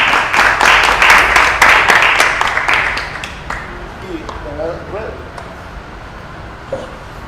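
A small group applauds studio guests at the close of a Spanish-language discussion program; the clapping is brisk and fairly close for about three seconds, then fades out as talking takes over.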